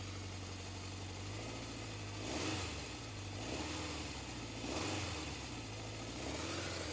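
A 1977 Honda CB750 motorcycle engine idles steadily after a cold start, a close, continuous mechanical hum with two brief swells of revving and no talking.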